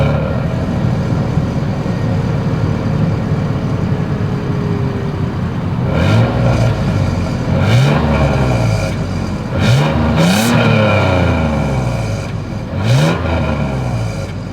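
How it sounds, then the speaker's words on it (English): A 2024 Toyota 4Runner with a single exhaust idles steadily, then revs several times in quick swells and drops during the second half, heard close and loud with no talking. "As always, here is that exhaust clip."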